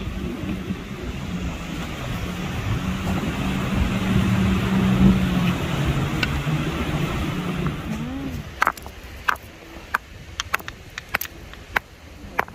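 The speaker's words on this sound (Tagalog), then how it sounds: "Jet ski." A jet ski engine passes offshore at Hornsea Beach, England: a distant, low droning hum that swells under steady wind noise, then fades away, followed by scattered sharp clicks and taps.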